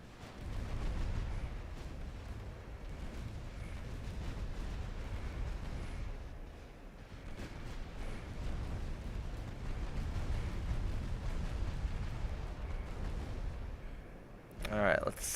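Warship secondary guns keep firing in the naval battle game Ultimate Admiral Dreadnoughts, a steady low rumble of distant gunfire under a talking voice.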